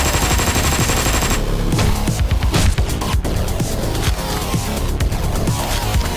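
Loud rapid gunfire from the video game Hotline Miami 2 bursts out in dense volleys over a thumping game soundtrack, continuous and close.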